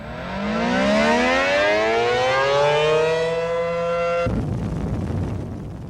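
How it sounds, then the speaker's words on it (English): A loud wailing emergency siren at the Ginna nuclear power plant rises and sweeps in pitch, sustained for several seconds, then cuts abruptly into a rough, noisy roar. "When there is an emergency at the Ginna nuclear power plant, there is no way neighbors can mistake this sound."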